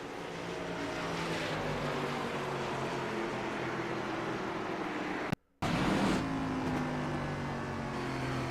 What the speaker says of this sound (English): It just spun the tires coming up off the corner and just not able to hang on to it.